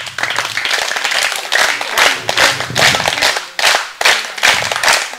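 Schoolchildren at a village school clothes-distribution event break into loud, sustained clapping in several bursts with brief pauses, close and crowded, with no talking.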